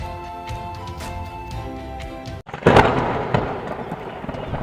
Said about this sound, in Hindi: बिजली कड़कती है आसमान में और फिर झमाझम बारिश शुरू हो जाती है।